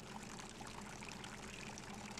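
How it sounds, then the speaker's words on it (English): Running water in the indie horror game Precipice, a steady pouring trickle that flows on without pause, faint and even throughout, with no voices over it. "Running water noises."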